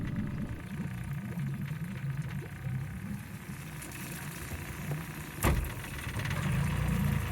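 A boat outboard motor idles steadily after being kicked over by turning the prop, a low continuous engine drone with a sharp knock partway through, then running on a bit louder.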